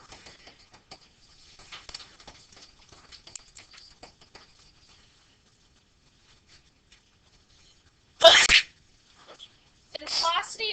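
After faint scattered clicks and rustles, a single loud, abrupt sneeze bursts out close by, followed shortly by a brief voice.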